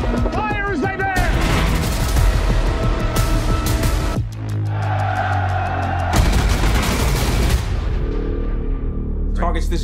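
Warship guns firing in a naval battle, loud booming blasts and explosions layered under dramatic music, with voices briefly heard between the shots.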